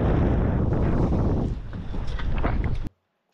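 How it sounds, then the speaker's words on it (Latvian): Wind gusts over open lake water, buffeting the microphone with loud rumbling noise that eases slightly midway, then cuts off abruptly near the end. "Normāls vējš."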